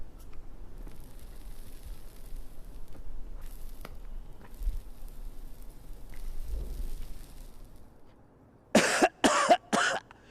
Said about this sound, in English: That's just pot smoker's cough.